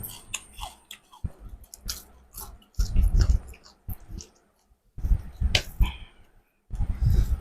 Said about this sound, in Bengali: মাছ হালকা মশলা দিয়ে গরম তেলে ভাজি করা হয়েছে, খাইতে মস মস লাগতেছে